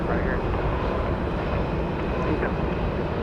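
Southwest airplanes idle on the taxiway waiting to take off at Dallas Love Field, giving a steady, loud, broadband engine roar and rumble that holds constant throughout.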